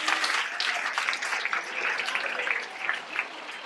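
An audience applauds during a school event presenting student-made posters, continuous moderate clapping with scattered sharper claps, steady for the whole stretch and fairly distant.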